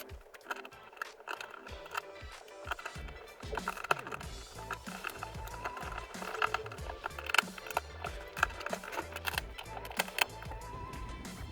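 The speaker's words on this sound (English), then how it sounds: "And then put back in the screws" Screws being driven back into a plastic marine gas tank to hold a gasket, heard as quiet close ratcheting clicks and small mechanical rattles in irregular bursts.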